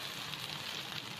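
Semolina and potato pieces frying in oil in a frying pan give a soft, steady, even sizzle with no pauses.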